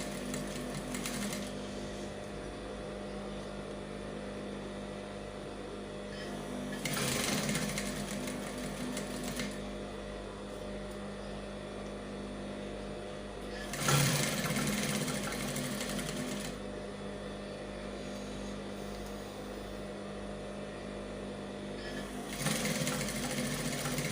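A sewing machine stitches around a shirt collar in three bursts of rapid mechanical whirring, each several seconds long, separated by quieter pauses with a low background hum; close and moderately loud, with no talking.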